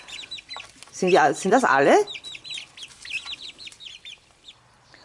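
Several garden chickens cluck and chirp close by in short repeated calls, with someone briefly speaking over them near the middle.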